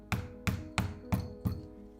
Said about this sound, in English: Let's just hammer it in, because of course, everything needs to be hammered in here.